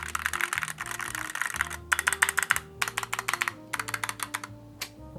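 Rapid typing on a pre-built mechanical keyboard, close and clear, with bursts of crisp, slightly tinny keystrokes separated by short pauses.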